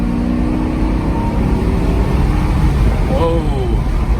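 A Mercedes SL500, left abandoned for over seven years, pulling away hard from a green light, its engine note rising in a loud, continuous drone heard from inside the car, with a brief climbing whine near the end.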